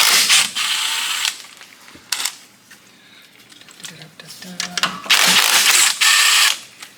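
A 1/2 inch ratchet turns a nut on the number 6 cylinder of an engine during a piston upgrade, giving bursts of ratcheting clicks in two main spells, with quieter handling noises between them.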